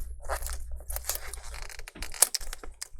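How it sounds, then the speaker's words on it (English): Adhesive tape peeled away inside an HP 15 DY laptop during a touch screen replacement, a series of close crackling, tearing rips with small clicks and handling noise, moderately loud and no voices. "So go ahead and peel this tape here."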